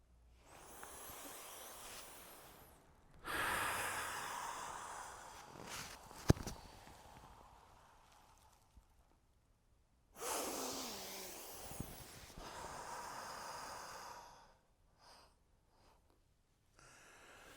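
Controlled breathing during the karate kata Hangetsu: two long, loud breathy exhalations stand out against a quieter background, with a sharp click in between and softer rustling and short breaths elsewhere.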